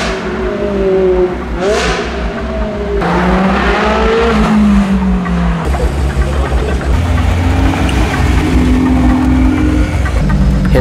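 Hardcore, more extreme Ferrari 360 supercar at a car show, its engine and exhaust loud and near, revving in rising and falling sweeps with sharp throttle blips and a rough, growling idle between pulls.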